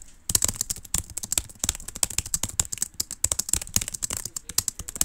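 Quick, uneven clicking of keys on a computer keyboard during a Nitro Type typing race, close and crisp, with brief pauses between bursts and no talking.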